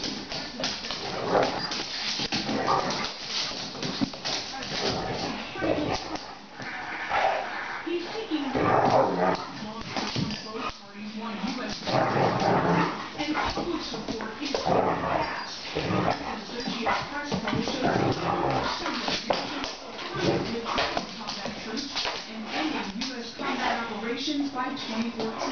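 A 50 lb female pit bull fights a 200 lb male mastiff, with close barking, yips and whimpering mixed into a noisy scuffle while people talk and shout over it throughout.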